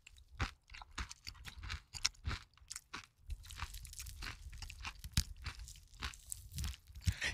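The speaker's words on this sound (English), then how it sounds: "Him chewing in my ear right now" Close, wet crunching and chewing of food by a man, irregular bites and mastication repeating steadily throughout, fairly quiet with no talk over it.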